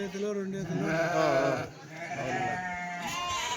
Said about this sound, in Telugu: ఎన్ని ఈతల గొర్రెలు ఉంటాయి ఇవన్నీ